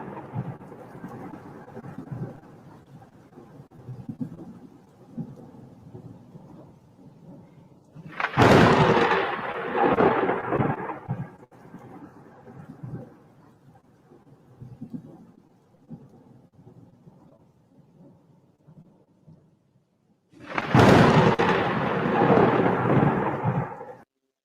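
Thunder sound effect with two loud, close crashes that rumble on for a few seconds each, separated by a quieter stretch of low rolling rumble and distant grumbles.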